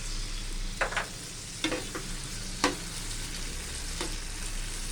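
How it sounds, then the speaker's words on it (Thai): Tomatoes fry in hot oil in a home kitchen while a dish of northern Thai pork and tomato chili dip is made. A steady sizzle runs throughout, broken by a few short, sharp crackles and utensil stirs. "น้ำมันร้อนยายก็จะเจียวมะเขือเทศก่อน"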